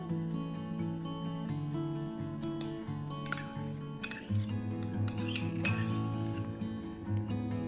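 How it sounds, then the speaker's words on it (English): A spoon clinks lightly against a bowl as oats are mixed with Greek yogurt. The small taps come in irregular bursts over steady background music. "I'm gonna add everything one by one and then mix it together"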